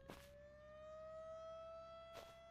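A civil-defense style raid siren wails in the zombie survival video game Surroundead, a long steady rising tone held for a couple of seconds and framed by two short bursts of noise, with no talking.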